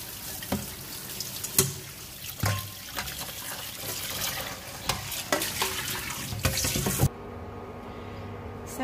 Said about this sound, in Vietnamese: Mình rửa lại nhiều lần bằng nước sạch.